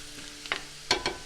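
Finely chopped shallots and green chilies sautéing in a pan, heard as a low background sizzle with a few short scraping stir strokes, no talking.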